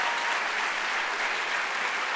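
Audience at a university forum on race in America claps steadily and densely throughout, a sustained wash of many hands at moderate volume with no voices on top.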